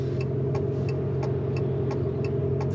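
A synthetic engine note from an Abarth 500e electric hatchback, a steady droning hum with a low rumble, played continuously and fairly loud without speech.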